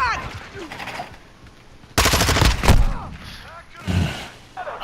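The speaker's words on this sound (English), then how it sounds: "Incoming fire." Rapid bursts of automatic gunfire in a hardcore team deathmatch of Call of Duty: Modern Warfare II at the Breenbergh Hotel map, a loud close volley followed by a shorter burst, with faint game sounds between.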